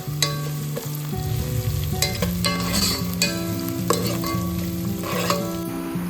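Fennel, mustard seeds and onion fry steadily in hot oil with a continuous sizzle, while a spoon stirs and scrapes the pan in repeated clinks and clatters. The cooking sounds are loud and close, with no talking.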